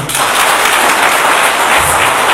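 Students cheer and applaud loudly at a university event in Mbandaka, a dense, continuous wash of clapping from a crowd that holds steady throughout.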